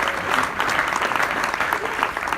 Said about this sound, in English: Give yourselves a big round of applause, please.